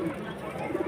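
Pigeons cooing at a pigeon market in Rahim Yar Khan: a short, soft burst of low rolling coos under a murmur of background chatter.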